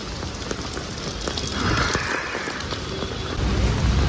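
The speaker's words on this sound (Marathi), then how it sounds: "तो आज इकडे असा पाऊस पूर्ण दिवसभरच चालू आहे." A constant wash of heavy rain beats down around an office area, a broad close hiss of drops hitting surfaces that grows a little louder toward the end, with no speech.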